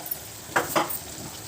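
Tomatoes dropped into a hot pan for a milmaker egg curry, two quick sizzling bursts close together over a faint background hiss.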